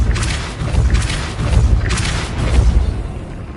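Depulso force spell cast in the video game Hogwarts Legacy, heard as heavy booming thuds with a crackling burst, three broad pulses repeating across the stretch, loud and close.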